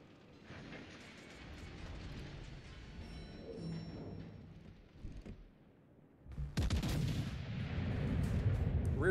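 Warship main gun turrets firing during a World of Warships Legends naval battle: rumbling heavy salvos with a quieter lull, then a loud, sustained burst of booming gunfire near the end.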